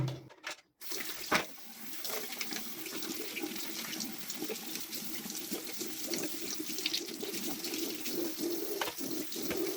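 Water runs steadily into a toilet cistern with a faulty fill valve that sometimes fails to shut off as the level rises, a continuous close rushing and trickling after a brief knock at the start.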